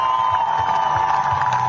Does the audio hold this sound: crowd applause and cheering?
yes